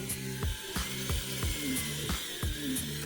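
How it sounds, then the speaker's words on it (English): A power drill bores holes into a handmade pickaxe, whining steadily with a rhythmic series of bites and catches roughly every third of a second, close and continuous. "So now I'm drilling some holes in this so that I can add material back in."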